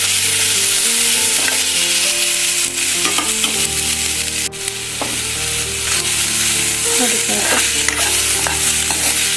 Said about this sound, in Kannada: ಎಣ್ಣೆಯಲ್ಲಿ ನೀಟಾಗಿ ಫ್ರೈ ಆಗಿದೆ